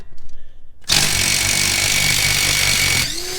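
A small impact gun rattles loudly and continuously for about two seconds as it spins off 21 mm tie rod nuts on a Jeep steering linkage, then winds down, with light tool handling just before.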